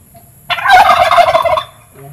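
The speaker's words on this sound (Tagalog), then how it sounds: "Nanggagaya yung pabo." A turkey lets out a single loud, rapid gobbling burst, close and clear against near silence.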